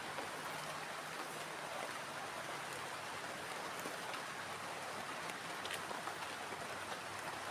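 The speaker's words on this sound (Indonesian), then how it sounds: "Dan ini hujannya semakin lebat banget ya." Heavy rain pours steadily at a campsite, a dense, even hiss of drops with no pauses, fairly soft and continuous throughout.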